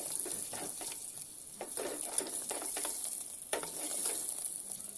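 Tempering spices crackle and sizzle steadily in hot oil in a home kitchen, a dense close frying hiss with a few sharper pops and scrapes along the way and no talking.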